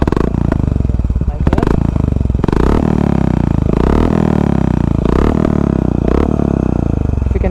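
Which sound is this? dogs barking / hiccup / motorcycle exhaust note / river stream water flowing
motorcycle exhaust note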